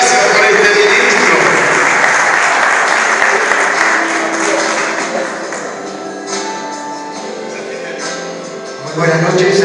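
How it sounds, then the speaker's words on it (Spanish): A church congregation applauds a visiting minister at an evening service, with dense, loud clapping that thins and fades toward the end while a voice speaks over it. "lo recibimos con un fuerte aplauso a Dios"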